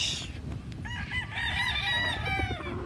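A rooster on a big farm in the Philippines crows loudly and close by, with clucking from the fowl mixed in.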